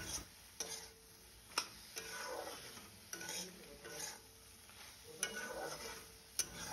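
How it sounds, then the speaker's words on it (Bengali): Fish sautéed with ground spices and salt in a pan, stirred steadily: low sizzling with scraping strokes and occasional sharp utensil taps against the pan, close and moderately loud, no voices. "তো সব কিছু ভালো মতো আমি কষে নেব"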